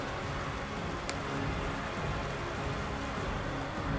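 Rain weather in the Pokémon Sword and Shield battle game makes a steady, soft hiss of falling rain. It runs as an unbroken background texture with no talking over it.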